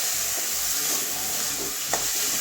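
Mushrooms sautéing in a pan sizzle steadily and close, with soft rhythmic stirring strokes and a single sharper scrape near the end, no voices present.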